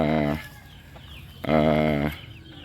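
A fierce gamecock on a Philippine farm crows twice up close, two loud drawn-out calls separated by a short pause.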